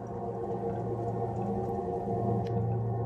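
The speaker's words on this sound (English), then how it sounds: "This is the sound of Jupiter." A recorded sound attributed to the planet Jupiter plays as a dense, eerie, whale-like drone. It carries wavering tonal moans and steady low rumbling layers, unbroken and moderately loud throughout, with no speech over it.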